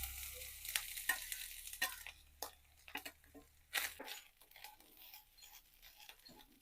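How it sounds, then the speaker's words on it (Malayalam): Grated coconut frying in hot melted ghee in a pan, with a spoon scraping and stirring it in uneven bursts of soft sizzle and scratchy clatter, close by and fairly quiet, with no talking. "ഇനി അതിലേക്ക് തേങ്ങ ഇട്ട് കൊടുക്കാം."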